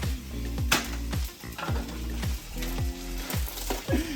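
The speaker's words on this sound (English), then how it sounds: "We just wanna brown the mince up." Mince browning in a frying pan, a steady sizzle under regular scraping stirs roughly every half second, close and moderately loud, with no talking.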